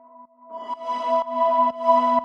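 A wavetable synth sine tone modulated by an LFO, thickened with unison and washed in echo and reverb, sustains as a pure, steady pitch that pulses in repeating swells.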